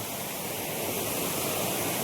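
Continuous broadband rush of flowing water, steady and fairly loud, with no voices.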